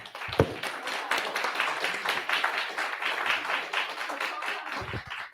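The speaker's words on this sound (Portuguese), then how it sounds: "Salva de palmas." An audience applauds after a talk at a panel on digital colonialism and AI, with steady, dense clapping of many hands that holds at an even level throughout, close and full.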